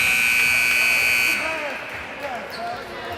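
A basketball game-clock buzzer sounds loud and steady for over a second at the end of a quarter in a 16U boys game, then cuts off, leaving gym noise and squeaking sneakers behind.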